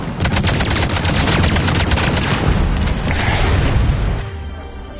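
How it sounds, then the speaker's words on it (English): Heavy enemy gunfire in Mass Effect 3, Legendary Edition on PS5, a loud, dense, continuous barrage of overlapping shots and bursts that cuts off abruptly near the end. "Heavy enemy fire."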